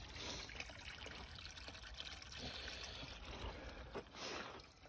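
Fresh water trickles steadily from a larger spring along a forest trail, a soft continuous babble heard close up with no talking.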